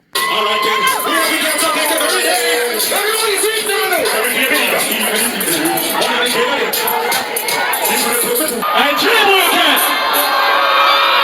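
A loud crowd at a dancehall show cheers, whoops and yells continuously over the full stretch, with voices shouting throughout.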